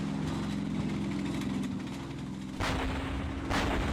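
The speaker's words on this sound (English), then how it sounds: "a load of people fire laws at it and they miss" Anti-tank rocket launchers fire at a reversing tank in a multiplayer war video game, two heavy blasts cutting through a constant low rumble of engine and battle noise.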